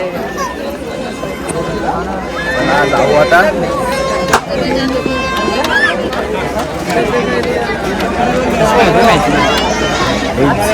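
Dense crowd hubbub at a crowded Mahashivratri village fair (jatra), with overlapping chatter, footsteps and shifting voices all around, and a nearby person speaking briefly over the steady din.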